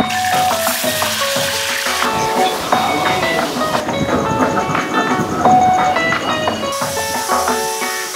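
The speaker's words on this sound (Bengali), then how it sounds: "তেলের মধ্যে মাছটাকে ছাড়বি, তাই তো? ছ্যাদ করে উঠবে" Fish drops into hot oil and gives a loud, dense, continuous sizzle that fills the whole stretch at close range, with no voices.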